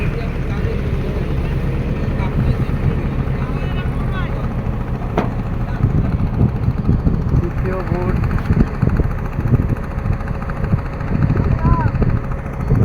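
A boat engine drones steadily from aboard a boat in the middle of Kaptai Lake, with a continuous mechanical hum and wind under occasional talk.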